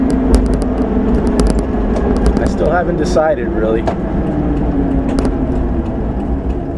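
A car engine idles in a steady, loud drone beneath someone speaking close by.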